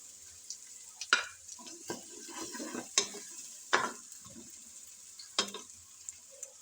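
Tomatoes go into a pan of onion, ginger and garlic paste frying for gobhi aloo gosht, with a soft sizzle under scattered stirring scrapes and clinks of a spoon against the pan.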